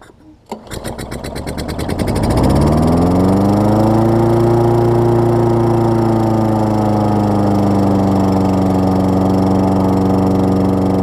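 Toro Personal Pace lawn mower with a 6.5 hp Tecumseh engine coughing into life after priming, then running at a steady loud drone with a clear harmonic hum, close by and without talk.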